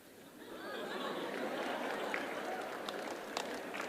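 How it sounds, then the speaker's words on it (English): Teachers and students clapping in an auditorium during an interview with Google CEO Sundar Pichai, the applause mixed with crowd chatter and rising to a sustained level after a quieter start. "Now, on this one, the teachers are clapping more than the students."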